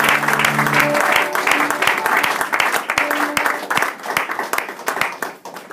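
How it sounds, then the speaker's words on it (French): A church congregation at a pastor's consecration service applauds and cheers continuously, dense steady clapping with crowd voices and a held musical tone underneath, fading slightly toward the end. "est-ce qu'on peut acclamer le Seigneur"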